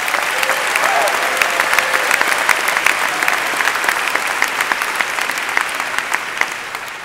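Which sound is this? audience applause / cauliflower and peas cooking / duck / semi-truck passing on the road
audience applause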